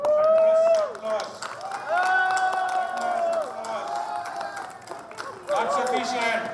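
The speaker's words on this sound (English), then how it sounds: "I request the delegates to give a thunderous applause." Delegates at a business summit applaud and cheer, a sustained wash of clapping and crowd noise that swells and dips in waves, with a loud amplified voice speaking over it from a stage.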